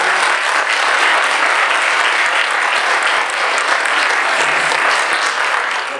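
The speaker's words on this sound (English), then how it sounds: "please give another round of applause for Senator McCain" Sustained applause from a large audience for Senator John McCain at a foreign policy talk, dense steady clapping filling the whole stretch at an even, loud level.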